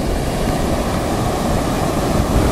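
Ocean waves wash and churn in a loud, steady roar of surf, dense and close, with no voices over it.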